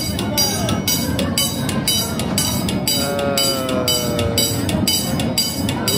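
Light rail train passing at Busch Gardens Christmas Town, with rhythmic clattering of wheels over rail joints and a tonal whine or squeal in the middle, close by, while people talk in the background.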